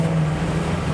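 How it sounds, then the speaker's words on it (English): A convertible's V8 engine revs briefly under light throttle, a steady low rumble heard close up and alone. "That's your V8 engine."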